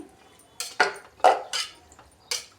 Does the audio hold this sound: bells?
no